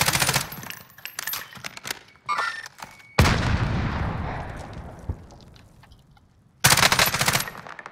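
Loud video game gunfire from a trios battle royale match, sniper shots among it, arrives in heavy bursts: a sharp blast with a long decaying tail, scattered shots before it, then another dense volley near the end.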